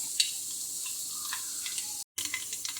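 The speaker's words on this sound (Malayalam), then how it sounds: "കടുക് നന്നായിട്ട് പൊട്ടിയിട്ടുണ്ട്" Mustard seeds splutter in hot sesame oil while a bilimbi pickle is being made, giving a continuous close sizzling hiss scattered with small crackles and pops. A brief gap of silence falls near the end.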